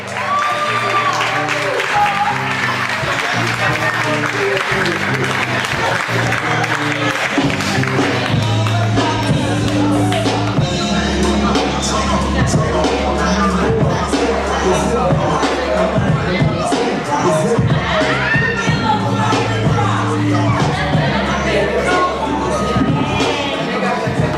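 A poetry-night audience at The Renaissance Art Space applauds poet Ayaba Mandingo, dense loud clapping mixed with cheers and crowd hubbub that carries on without letup.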